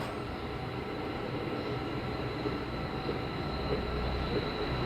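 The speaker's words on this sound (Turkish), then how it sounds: "Tren." A train passes steadily for a few seconds, a dense continuous rumble of wheels and rail noise with a faint high squeal, loud and even throughout, with no voices.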